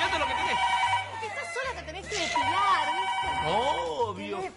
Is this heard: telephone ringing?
yes